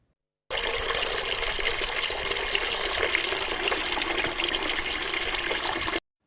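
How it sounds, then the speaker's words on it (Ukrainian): Water pours steadily from a tap, a constant close splashing rush that starts abruptly and runs unbroken until it cuts off. "Це звук води, яка лється з крану."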